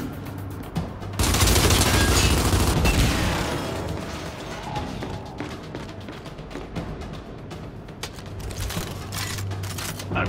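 Gunfire in the Gears 5 video game tutorial: a loud, dense burst of rapid shots up front, then scattered sharper shots and mechanical clatter over a low steady drone, with no talking.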